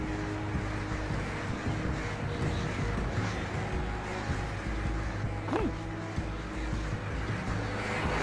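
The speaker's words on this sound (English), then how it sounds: "Fucking birds. The assholes are everywhere." Crows caw a few times in the video game Alan Wake, set over a constant low rumble of wind and engine-like drone that fills the background throughout.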